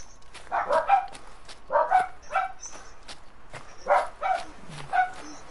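Dog barking in the Hunter: Call of the Wild video game, a series of distant-sounding barks and yelps in uneven bursts with short pauses between.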